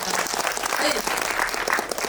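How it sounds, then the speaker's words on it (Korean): A theater audience at a film talk event claps warmly. The short burst of dense, steady clapping fills the hall for about two seconds. "박수 부탁드리겠습니다."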